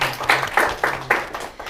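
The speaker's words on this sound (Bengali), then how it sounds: "আবারও হাততালি হবে।" Rhythmic group clapping from students honouring quiz winners at a school prize-giving: about seven crisp, evenly spaced beats, fairly close and loud, over a low background hum.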